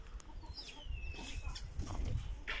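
Faint clucking from chickens on a farm amid outdoor background noise, with a thin whistle-like bird note passing briefly.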